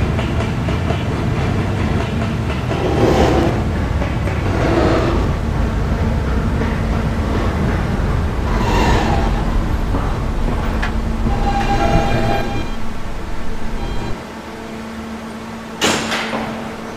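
Kawasaki R160 subway train running between stations on an E train trip, steady loud rumble of wheels and motors with clickety-clack over rail joints, a tonal hum, and a brief drop and bump near the end.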